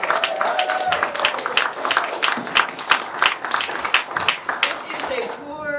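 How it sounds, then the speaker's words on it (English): An audience claps for the creatives at a panel event, a dense run of hand claps throughout with a voice speaking over them. "put our hands together for Anna and Katie and John and all the creatives"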